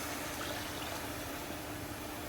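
Hot water poured into a tadka for restaurant-style soya chaap gravy gives a steady, even rushing hiss that stays constant throughout, with no voices.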